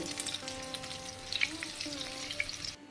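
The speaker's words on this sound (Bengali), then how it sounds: "আলুগুলোকে একটু সময় নিয়ে ভালো করে ভেজে নেব" Potatoes sizzle and crackle steadily in hot oil, a continuous close frying hiss with small pops.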